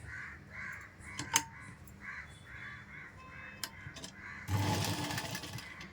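A sewing machine stitches stacked fabric frills in one short, close burst of rapid mechanical whirring near the end, after quiet moments of handling and a few crow-like caws.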